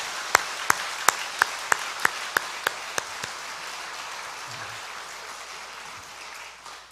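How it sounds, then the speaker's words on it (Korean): A church congregation at a Sunday worship service claps in a slow, loud, unified rhythm of about nine beats, then the claps stop and only faint room ambience remains. "우리 아이들 위해서 박수 한번 할까요?"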